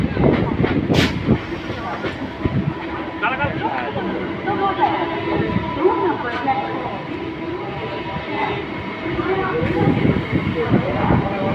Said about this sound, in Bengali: এটা হচ্ছে মেমারি স্টেশনের 4 নম্বর প্ল্যাটফর্ম এবং তারই সাথে আমাদের ট্রেন ছেড়ে দিল মেমারি